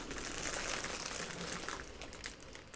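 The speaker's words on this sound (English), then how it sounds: "So we have got really crinkly plastic." Crinkly plastic wrapping on a baby gift basket being handled, a continuous close-up rustle and crackle that softens slightly toward the end.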